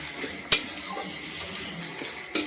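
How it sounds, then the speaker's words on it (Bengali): Onion frying in oil in a home kitchen while being stirred: a steady soft sizzle with two sharp spoon-on-pan clinks, one early and one near the end, and no talking. "এবার পেঁয়াজটা ভেজে নেব।"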